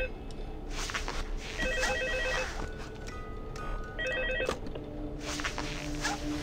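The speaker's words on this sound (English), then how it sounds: "You already hear the phone call from that?" In Five Nights in Minecraft, an in-game telephone rings in repeated electronic bursts over a steady background hum, with faint footstep-like thuds between the rings.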